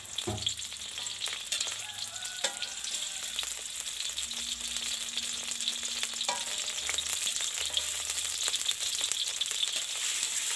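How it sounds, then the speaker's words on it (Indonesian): Spice paste sizzles and crackles in hot oil in a pan, a steady, close frying hiss with occasional pops and faint stirring clatter throughout. "sekarang siap tumis bumbunya"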